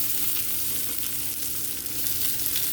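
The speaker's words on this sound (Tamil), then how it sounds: "அதையும் சேர்த்து நல்லா வதக்கிக்கலாம்." Steady, dense sizzling of onions sautéing in hot oil in a pan, continuous and close, with faint stirring.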